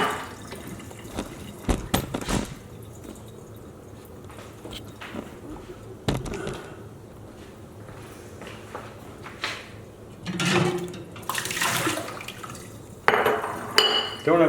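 Water splashes and drips as hot glass jars of kumquat compote are lifted out of a pot of boiling water, clinking and knocking against it in several bursts of handling, fairly close.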